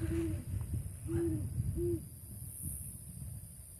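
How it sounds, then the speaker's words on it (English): An owl hoots outdoors at night, three clear, even hoots close by in the first two seconds over low background rumble. "There's an owl up here."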